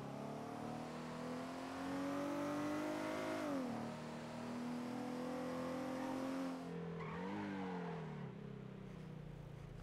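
A Hummer is driven hard in a video game, its engine revving steadily with rising and falling pitch and tyres skidding loudly near the end, all close and continuous with no talk.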